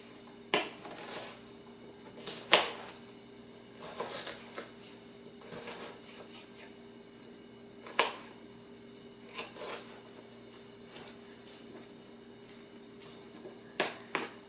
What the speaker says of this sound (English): I'm just going to start slicing all in one direction.